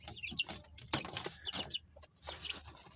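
Young chickens in a small backyard coop clucking and peeping close by, in short overlapping bursts with soft rustling between calls.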